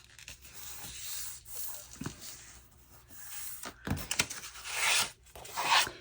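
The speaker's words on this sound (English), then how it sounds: "So let's fold it this way." Card stock being folded and creased by hand for a hinged pocket in a papercraft project, heard as soft rubbing and crinkling with a few sharper crunches, close and fairly quiet.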